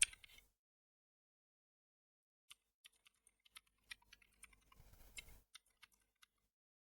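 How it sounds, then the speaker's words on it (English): An email address is typed on a computer keyboard: a quiet, close run of separate key clicks after a short silence, irregular at first, then denser and quicker before a few final taps. "You'll need to type your email."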